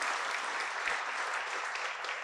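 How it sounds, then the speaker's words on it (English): A big audience applauds steadily and loudly, a continuous wash of many hands clapping from start to finish. "Let's give everybody a big round of applause."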